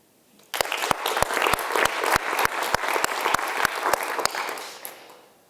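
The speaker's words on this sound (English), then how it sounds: "A round of applause for them." Audience at the Plone Foundation annual general meeting breaks into applause, a burst of clapping with one loud, regular clapper near the microphone, lasting about five seconds before tapering off.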